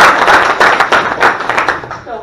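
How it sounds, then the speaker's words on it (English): A small group claps in a steady, rhythmic patter for about two seconds after a wholesale real estate deal is discussed. The claps are close and fairly loud, fading at the end. "Let's give a round of applause"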